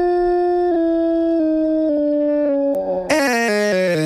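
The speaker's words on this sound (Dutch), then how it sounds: "En wat dacht je van je eigen hond?" A dog's long howl, processed with auto-tune, holds steady stepped pitches like sung notes, loud and close, ending in a brighter burst of quickly changing tones.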